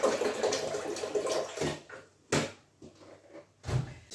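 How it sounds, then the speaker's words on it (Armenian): Water is poured and added to a coffee machine in a kitchen, with a running trickle at the start followed by several sharp clunks and knocks of the machine's parts being handled, close by and fairly quiet. "ամեն առավոտ այս ապարատի մեջ ջուր եմ ավելացնում"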